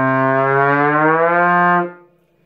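A solo trombone slides smoothly in one continuous glissando, its pitch bending while the note holds strong and close, then cuts off into near silence.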